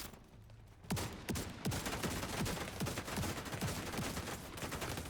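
Rapid gunfire from The Division 2 video game crackles in a dense burst of repeated shots, loud and close, with sharp bangs recurring every half second or so over a steady game background.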